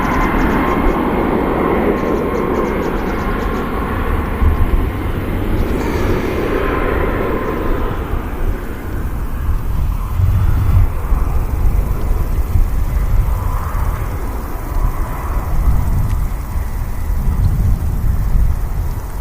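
A Ryanair airliner arriving from Rome at Manchester Airport passes with a deep rumbling jet roar that swells and fades, loud and close, in outdoor wind noise.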